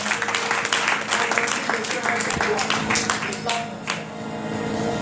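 A church congregation applauding and cheering in worship of the Lord, dense sustained clapping with scattered voices mixed in, fading slightly toward the end.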